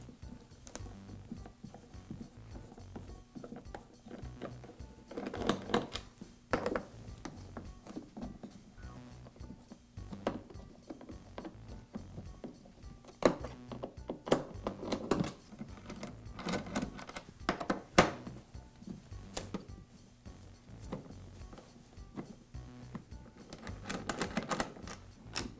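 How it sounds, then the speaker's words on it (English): A wrench works the screws out of the top cover of a DeWALT planer, making sparse metallic ticks, clinks and ratcheting taps. They sound close and fairly quiet, with small handling noises scattered between them. "I can use the wrench that came with the planer for replacing the knives to remove these screws"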